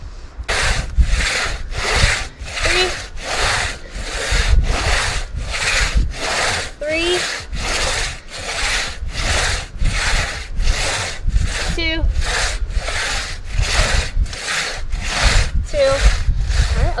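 A crosscut saw cuts through a standing tree in steady, rhythmic back-and-forth strokes, about one per second, close and loud, with occasional bird chirps in the background.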